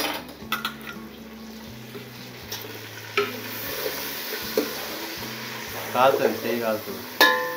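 Chopped mint and coriander sizzle in hot tempering oil for prawn biryani, a soft steady fry under repeated spoon stirs and scraping clinks against the pot, with a low electrical hum underneath.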